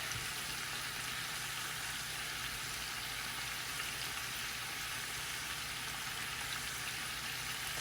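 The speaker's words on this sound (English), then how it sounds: "Now I'm browning my oxtails." Oxtails browning in a hot pan give a steady, even sizzle of frying fat that holds level and close throughout, with no talking over it.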